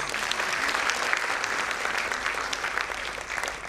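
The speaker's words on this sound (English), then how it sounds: "They need a round of applause." An audience at a school function applauds its special guests with sustained, dense clapping that holds steady and fairly loud throughout, with no clear voices.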